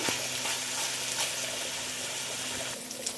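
Ingredients for coconut milk pulao frying in a pan, giving a steady, close sizzling hiss that stays fairly even throughout, with a few small pops and crackles standing out.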